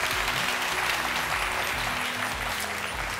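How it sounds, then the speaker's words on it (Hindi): Steady, dense applause from a large studio audience at a Ramadan iftar TV broadcast, continuous and loud throughout with no voices standing out. "कितने लोग तालियां बजा के बताएं मुझे तालियां"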